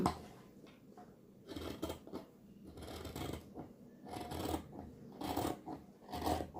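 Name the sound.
scissors cutting blouse sleeve fabric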